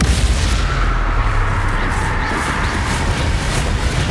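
Bombarda explosion spell cast in Hogwarts Legacy, a loud, dense blast of booming rumble that holds steady for several seconds amid game combat noise, with no clear voices.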